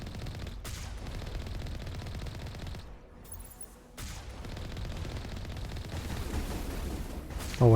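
An enemy in Mass Effect Legendary Edition fires sustained bursts of gunfire, with a short lull midway before the shooting resumes; the shots are fairly loud and mixed with game ambience.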